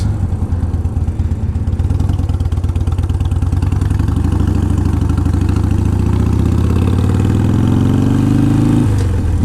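A carbureted motorcycle idles close and loud with a deep, lumpy, uneven beat, the engine's pitch creeping up briefly near the end before dropping back.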